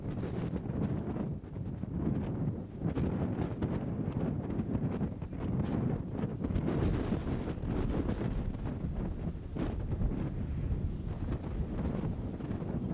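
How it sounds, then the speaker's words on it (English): Strong wind blows without pause across an open outdoor landscape, buffeting the microphone with a dense, steady roar that stays loud from start to finish, no voices heard. "Man, that wind just blew non-stop."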